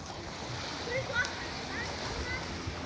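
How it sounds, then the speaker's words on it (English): Running water babbles and splashes steadily nearby, heard outdoors during a live stream, with a voice and faint noise over the constant wash. "But you can hear the water."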